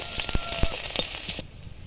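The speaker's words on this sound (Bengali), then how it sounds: "পেঁয়াজটা ভালোভাবে ভাজা হয়ে গেছে।" Chopped onion frying in hot oil with nigella seeds and dried chillies, a steady close sizzle with scattered crackles and a few spatula taps that stops abruptly near the end.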